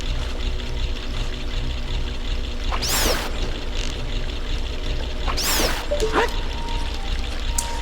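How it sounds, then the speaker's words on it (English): A waterfall room in the Water Temple of the video game Zelda: Ocarina of Time, a steady rushing roar of falling water throughout, with two brief bright splashy accents over the constant wash. "Ah, the waterfall room."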